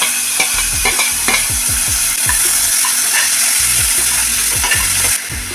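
Onions fry in oil in a pan while a spoon repeatedly scrapes and stirs, rhythmic clanks over a constant frying hiss, close and loud.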